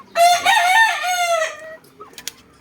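A Boston Roundhead gamefowl rooster lets out a single loud, near crow that holds for over a second, followed by a couple of soft clucks and scratchy noises.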